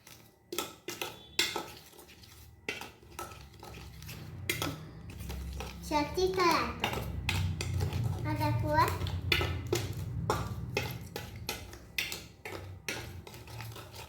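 Fish being mixed by hand with salt and spices in a bowl for frying, soft squelching and clinks of a spoon against the dish under a woman's and children's chatter.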